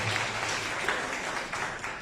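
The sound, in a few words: applause welcoming a guest speaker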